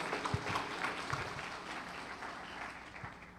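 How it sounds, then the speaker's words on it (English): An audience applauds the national top 3 at the Shout 2.0 event in Guyana with a soft, steady patter of many hands clapping, heard from a distance. "round of applause."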